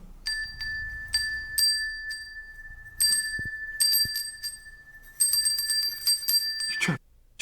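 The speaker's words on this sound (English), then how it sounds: "Please try to follow the sound of the bell and come into this room." A bell rings repeatedly inside Charleville Castle during a paranormal investigation, clear ringing strikes in bursts separated by short pauses, fairly close, with a final thump near the end.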